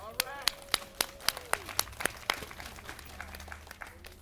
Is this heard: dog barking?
no